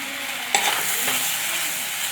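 Two green chilies go into a pan of sautéing ingredients for a fishless fish curry, giving a loud, even sizzle close by with a brief clatter of a spoon or utensil early on and no speech.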